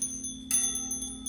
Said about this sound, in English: He loves this bell and he goes crazy.